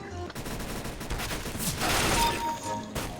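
Sniper rifle fire in a Counter-Strike: Global Offensive match, a few sharp, close shots with rattling game effects and no voices.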